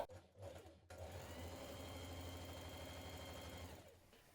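A sewing machine runs a long straight line of ease stitching on a dress sleeve, a steady, close, continuous mechanical whirr lasting about three seconds before stopping.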